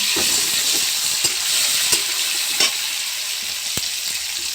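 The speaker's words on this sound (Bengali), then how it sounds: "এই বড়ার তেলের মধ্যে বসিয়ে দেব দিয়ে দিয়েছি বিয়েটাকে ভালো করে নেড়ে নেব আমি" Banana flower fritters fry in hot oil with a bright, continuous sizzle, broken by several short clicks and scrapes of stirring, close up and without speech.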